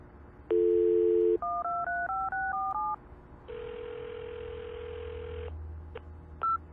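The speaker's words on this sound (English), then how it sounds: "Let's try redialing it." Phone number redialed in the CSI: Dark Motives video game: a long dial tone, then a quick series of DTMF keypad tones in a steady rhythm, a pause, and a second long ringing-style tone, with a brief beep at the end.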